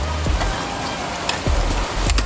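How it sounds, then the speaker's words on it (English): Steady rain falls outdoors near an outdoor cooking spot, a dense even hiss with occasional sharper drips and low thumps, with no voices. "Rain out here, you know."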